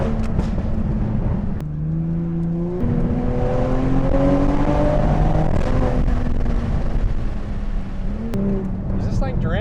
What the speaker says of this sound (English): this is my first time driving the B58 or the Supra hard